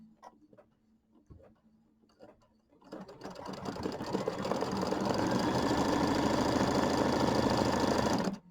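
An embroidery machine starts with a few soft ticks and clicks, then stitches decorative work in a steady fast whir. The whir builds and holds loud and even until it stops abruptly at the end.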